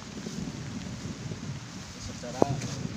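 Rain pours steadily through a forest as a continuous broadband hiss. Near the end a brief voice cuts in over it.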